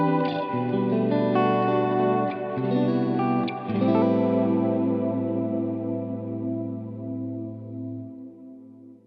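Electric guitar played through a Strymon Iridium amp modeler in stereo with wet ambient effects, ringing chords and single notes blooming into a lush hall-like wash that sustains and slowly fades, with no talking.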